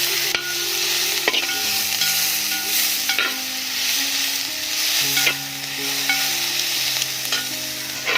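Three onions and green chillies fry in hot oil in a pan for Arabic mutton majboos, a loud steady sizzle broken by the clatter of a spoon stirring every second or so, close up with no voices.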